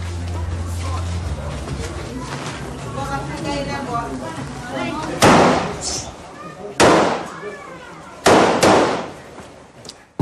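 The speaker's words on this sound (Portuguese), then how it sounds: "Um traficante dispara um tiro e os soldados do BOP ripostam" Gunshots exchanged between a drug trafficker and BOPE soldiers: three sharp, loud bangs a second or so apart ring out over ongoing voices and background chatter.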